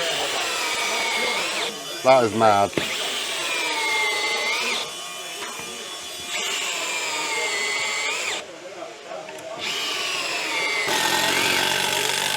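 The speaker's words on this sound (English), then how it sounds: "This is the new M12 brushless drill driver. Apparently it's got some power, so let's give it a whirl." A Milwaukee M12 cordless brushless drill driver whirs in repeated bursts over several seconds, close and fairly loud, with a brief remark spoken between the runs.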